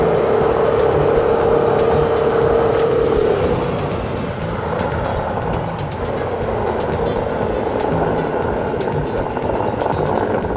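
A Suzuki V-Strom 650 motorcycle on studded ice-racing tyres climbs an icy road, its engine a loud, steady drone mixed with rough crunching and wind noise, close throughout.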